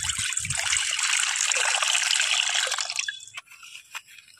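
Water is poured steadily into a bowl for rinsing sliced potatoes for chips, a bright splashing stream for about three seconds that stops and leaves a few faint drips.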